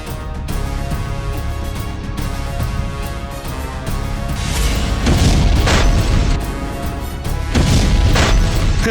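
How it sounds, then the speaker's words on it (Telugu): Bomb blast in a Telugu TV serial, rendered as a dramatic booming explosion effect with loud low rumbles swelling in several bursts over a continuous music-like bed, no talking. "బాంబ్ బ్లాస్ట్ చేసేయాలి"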